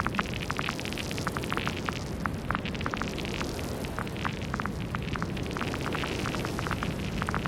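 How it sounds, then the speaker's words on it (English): Synthesized hail storm built in Ableton with vinyl distortion: a dense, steady roar of static-like noise peppered with constant sharp ticks and pattering impacts, loud and unbroken throughout with no voices. "It's like hail. We created hail."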